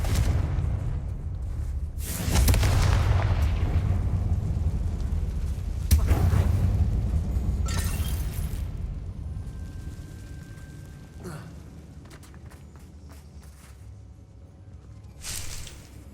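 A Confringo fire spell cast in Hogwarts Legacy, inside an abandoned mine, bursts into a loud deep explosion with rumbling low end, followed by a second blast and a long fading roar, with scattered debris-like clatter afterward.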